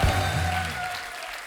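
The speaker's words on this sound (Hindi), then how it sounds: "जोरदार तालियां हो जाए।" Studio audience applause on a Hindi comedy talk show, a short burst of clapping that is loud at the start and then tapers off under a faint background tone.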